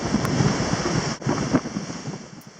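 Strong 35-knot wind and two-metre waves while sailing a yacht off Western Fiji, loud continuous rushing wind buffeting the microphone over the surging wash of water against the hull.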